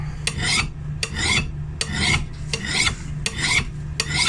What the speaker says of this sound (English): at least you'd be able to use a file to put an edge back to it